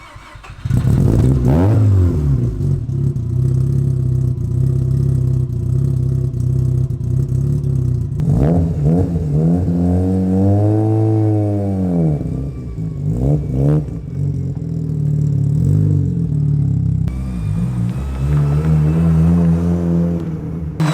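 A Mazda RX-7 rotary engine fires up and revs repeatedly while warming up, loud and close, with rising and falling throttle sweeps over a steady rough idle and no talk.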